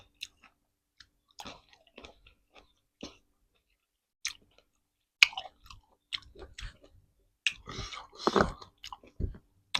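Isan-style larb salad is chewed close up, with wet crunchy bites and smacking in scattered bursts separated by short pauses, quiet overall with no clear talking.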